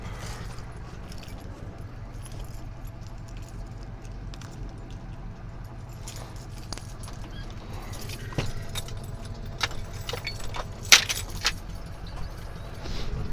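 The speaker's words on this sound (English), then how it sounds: "Got way too many fucking keys." A bunch of keys jangles and clinks close by over the steady low engine rumble of a Ford F-250 work truck, the rattling growing busier toward the end.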